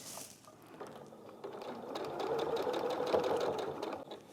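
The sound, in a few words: sewing machine reverse stitching a fabric pocket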